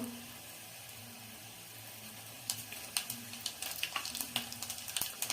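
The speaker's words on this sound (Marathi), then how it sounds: "तेल खूप तापलेलं आहे, लसूण मी टाकलाय" Garlic hits very hot oil and starts a crackling sizzle midway, rising into busy popping and spitting after a quiet stretch of low background hum, close and fairly soft.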